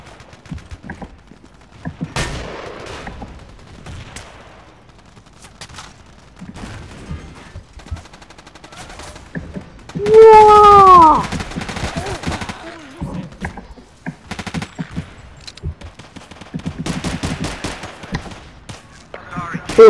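Gunfire bursts from the Battlefield 2 video game, a dense volley around the middle standing out above scattered shots and game noise, with a player talking through much of it.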